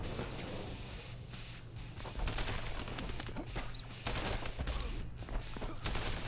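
Continuous gunfire from the Earn to Die Rogue video game, a dense rattling fusillade of shots, rapid and sustained, over a low droning engine hum, at moderate level with no talk.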